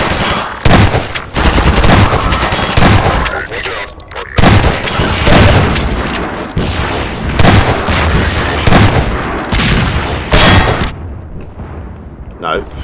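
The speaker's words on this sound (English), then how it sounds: "Let's get a shotgun out and ready. I can blow these guys up straight away." Repeated shotgun blasts in the Half-Life 2 Episode 1 video game, loud bursts in an irregular rhythm amid a dense, noisy firefight, with a voice talking over parts of it.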